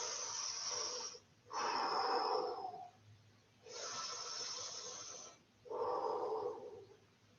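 Slow, deep breaths during a back-and-chest stretching exercise, alternating long inhales and exhales heard close and fairly quiet, with no talking.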